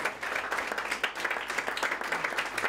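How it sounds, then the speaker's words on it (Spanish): Applause from the audience at a Real Zaragoza football club ceremony honouring fifty years of membership, steady dense clapping that carries on throughout without a break. "Muchas gracias, ese aplauso para Tomás Sevilla."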